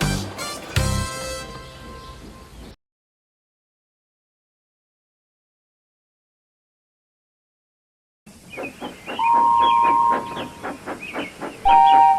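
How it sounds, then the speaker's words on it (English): Rail sounds with hissing steam and chuffing, a loud burst then a long silence, followed by rhythmic clanking and a whistle-like tone as a steam locomotive approaches a station. "Lionel steamed into Tidmouth Station."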